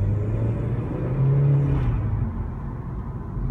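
Turbocharged 2016 Honda Civic with a short ram intake, engine rumbling steadily as it accelerates, with a brief airy whoosh of released air near the middle, heard from inside the car with windows up.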